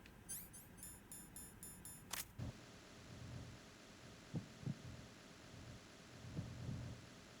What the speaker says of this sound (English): Yep, you can hear her heartbeat.